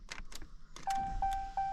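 A Ram TRX's push-button ignition is switched into the run position, followed by three evenly spaced, clear electronic dashboard chimes over a quiet cabin.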